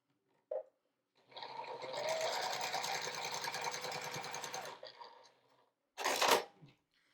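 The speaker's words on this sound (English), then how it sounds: "Lay them right sides together and sew a 1/4 inch seam." A sewing machine stitches a quarter-inch seam joining two 2.5-inch quilt squares, one steady run of close, even motor hum lasting a few seconds, with a short mechanical clunk before it and another after it.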